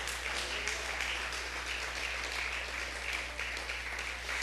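A church congregation applauds loudly for Jesus at the pastor's call during a sermon. Sustained, dense clapping fills the room evenly throughout, with a steady low hum underneath.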